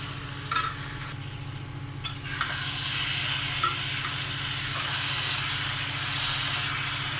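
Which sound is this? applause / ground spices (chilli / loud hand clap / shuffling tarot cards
ground spices (chilli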